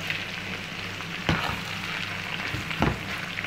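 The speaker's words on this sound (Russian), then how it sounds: "Лук должен обжариться, но он не должен подгореть." Onions fry for chicken pilaf in a pan with a steady, close hiss of sizzling, broken twice by a spoon's scraping stir.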